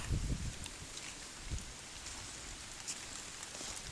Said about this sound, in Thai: ฝนตกจ้ะพี่น้อง